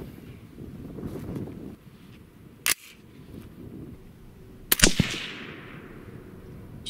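An AR-15 coyote rifle in .223 firing Hornady 53-grain V-Max loads over H322 powder: two sharp, loud outdoor shots several seconds apart, with steady wind noise in between.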